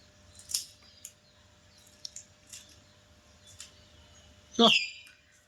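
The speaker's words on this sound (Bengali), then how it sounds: "কাঁচি দিয়ে কেটে দাও।" Scissors snipping through fish at a fish stall. Several short, sharp cuts are spaced apart and fairly quiet, followed by one louder crunching snip near the end.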